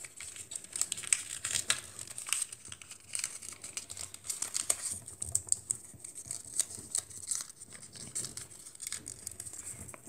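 Paper being creased and folded sharply into an origami takeout box, giving close crinkling and crisp rustling in repeated bursts, fairly quiet, with no talking.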